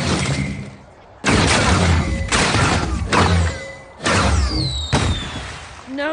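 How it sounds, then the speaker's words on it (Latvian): Fireworks going off nearby in an animated cartoon, a run of loud, crackling blasts with whistling streaks rising between the bursts. "Tad kāpēc viņi sāk uguņošanu?"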